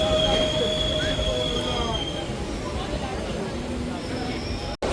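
Loud, continuous rail rumble with a thin high squeal fills the air as the Howrah–New Jalpaiguri Shatabdi Express, train 12041, approaches, then ends in a sudden dropout.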